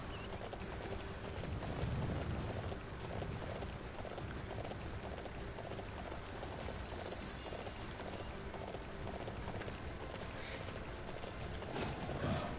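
Horse hooves clip-clopping in Dynasty Warriors 9, a busy continuous patter of hoofbeats at steady volume over game noise, with no talk.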